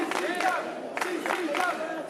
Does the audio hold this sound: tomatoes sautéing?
no